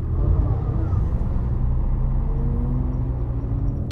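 City Bus S 200 diesel engine with a first-generation ZF Ecomat five-speed automatic gearbox, simulated in OMSI 2, droning as a steady low rumble from inside the bus, loud and continuous with no talk.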